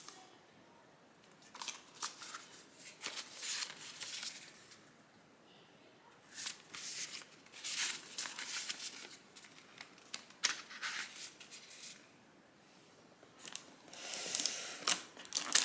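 Paper documentation and stickers for a Razer Huntsman V2 keyboard rustle and crinkle as they are lifted out of the box, in short bursts of close handling noise with quiet pauses between.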